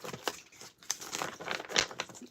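Quiet, close papery riffling and flicking as cards are shuffled, a quick series of soft crackling bursts.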